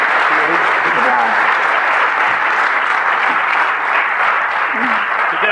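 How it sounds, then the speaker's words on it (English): Loud, sustained applause from a DEF CON conference audience for a first-time speaker, steady and dense for the whole stretch, with a few voices cheering over it. "Round of applause for our first time speaker."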